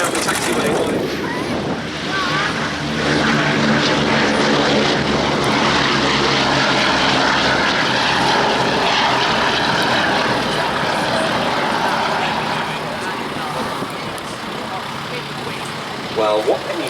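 The propeller aircraft Sally B taxis at the Duxford Air Festival, its piston engines rumbling loud and steady close by, with wind buffeting the microphone throughout.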